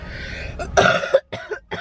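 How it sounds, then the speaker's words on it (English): A cluster of rough, throaty coughs, several in quick succession, close and fairly loud with brief gaps between. "It's just a cough, you know?"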